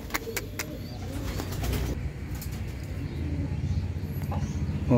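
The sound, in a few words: racing pigeons cooing at the loft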